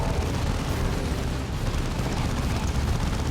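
Heavy bolters of a Devastator squad firing in the Dawn of War 2 battle game, a dense continuous roar of rapid booming shots and explosions that stays loud and steady throughout with no pauses.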